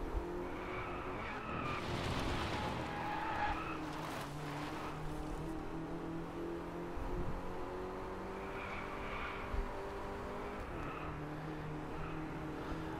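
A car wreck in the racing game Driveclub: engine roar and tyre skidding that builds into crunching impacts early on, then a rumbling engine drone that fades to a quieter hum with a few scraping bumps.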